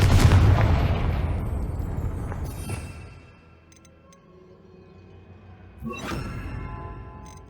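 Confringo explosive spell cast in Hogwarts Legacy, a loud booming blast that decays over a few seconds, followed by a second sharper burst near the end.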